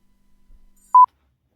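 A single short telephone dialing tone, one clean beep as a call is placed, loud and close after near silence.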